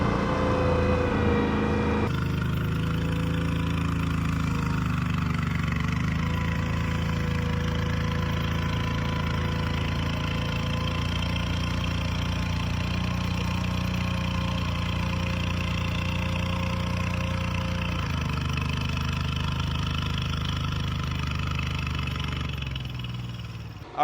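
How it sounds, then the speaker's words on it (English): The engine of a Fin Chaser 600 amphibious fishing boat drives a hydraulic pump up a hill, a loud steady droning growl with a shift in pitch partway through, close and continuous with no speech. "So you can hear the revs drop and then the hydraulic pump swashes back and it just grunts its"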